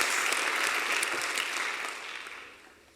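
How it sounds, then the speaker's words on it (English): A ceremony audience applauds a group of men and their advisors, a full crowd clapping briskly and evenly before the sound thins out and fades toward the end. "Let's give these men and their advisors another round of applause"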